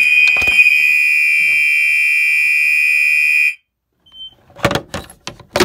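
A fire alarm system set off with a key during a test sounds a loud steady electronic tone for about three and a half seconds, followed by sharp clicks and knocks.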